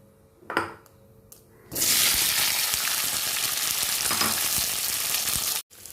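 Chopped tomato and onion hit a hot pan with a sudden loud sizzle that holds steady as they half-cook, after a few faint clinks. The frying stops abruptly near the end.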